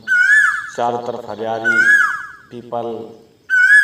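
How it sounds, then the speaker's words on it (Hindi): An Asian koel calls in a garden at an ashram after rain, its clear rising whistled notes repeating every couple of seconds while someone talks steadily over and between them. "बड़ी सुंदर कोयल कूक रही है"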